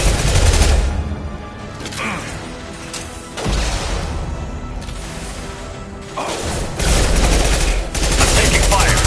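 Rapid gunfire bursts in a Mass Effect 2 Legendary Edition firefight, loud and dense with overlapping shots and crashes that keep going almost without a break.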